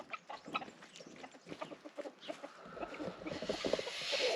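Cockerels clucking and squawking in a busy group, fairly close, with scratchy farmyard noise building toward the end.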